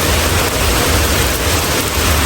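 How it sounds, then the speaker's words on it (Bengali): Steady, loud broadband hiss of heavy summer afternoon rain falling continuously in the United States, close and unbroken, with no voices. "আর এখন দুপুর ২টার সময় এইভাবে বৃষ্টি হচ্ছে।"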